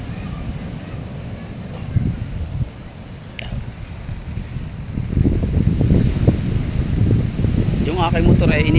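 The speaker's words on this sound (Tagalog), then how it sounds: "Malalaki ang alon mga brad." Surf breaking at Dinigman beach, a steady roar of large waves with gusting wind noise on the microphone, growing louder and fuller in the second half.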